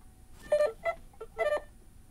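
A short melodic ringtone called Wizard on a Nothing Phone 2, made of three clusters of bright, beeping electronic tones with a quick small note between them, playing alone at moderate volume.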